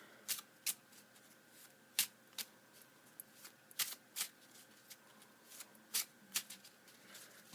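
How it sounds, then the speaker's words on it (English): A deck of playing cards is shuffled in a quiet room, giving soft, crisp riffling snaps in quick irregular bursts across several seconds, close to the microphone and with no talk. "Now what we're going to do is just shuffle them a little bit."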